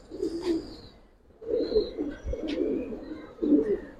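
Kanthi-necked pigeon cooing in a few low, soft, repeated coos, close by, with a couple of brief pauses between phrases.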